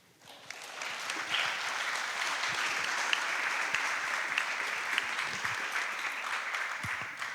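Applause from a conference audience at a youth peace-building session swells quickly and holds steady as a broad, continuous patter of many hands, with a few louder claps standing out.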